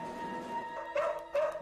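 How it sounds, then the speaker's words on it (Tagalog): Two short dog barks or yips ring out in quick succession, moderately close, after a quiet stretch with faint background hum. "Pero ang naghihintay sa kanyang mesa, isang aso."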